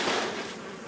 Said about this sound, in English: or the killer bees could get in.